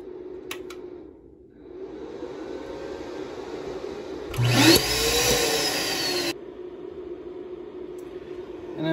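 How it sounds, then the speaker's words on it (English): A Lagenda B322 side fan hums faintly and steadily, with a louder burst of whirring noise for about two seconds in the middle before the quiet hum returns. "you can hear how quiet the side fan has gotten"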